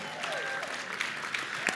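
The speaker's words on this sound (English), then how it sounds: "Give yourselves a round of applause for getting here" Applause from a full-house audience at a professional awards gathering, a steady wash of clapping with some voices and faint tonal sounds over it.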